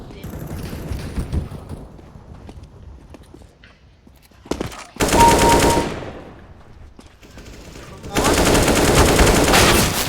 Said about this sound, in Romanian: Ne luăm AK-47.